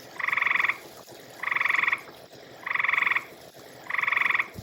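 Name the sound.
frog croaking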